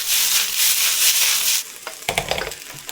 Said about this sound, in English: Get our brisket and our cabbage back in.